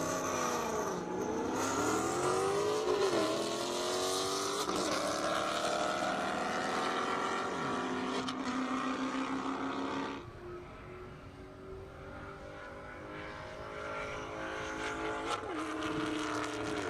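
Mopar drag race cars roar down an airstrip strip at an Indianapolis airstrip drag event, loud high-revving engines climbing in pitch, then a sharp drop at shift and a lower, continuing drone as the cars pull away.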